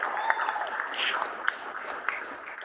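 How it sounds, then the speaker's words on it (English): Audience applause at a retail talk honouring a speaker, a steady wash of clapping with a few sharper individual claps standing out, moderately loud and continuous. "Can we give a good round of applause?"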